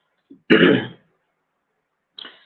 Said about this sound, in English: coughing small, that's why